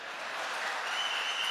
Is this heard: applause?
yes